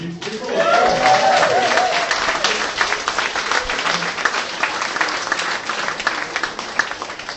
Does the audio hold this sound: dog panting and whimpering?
no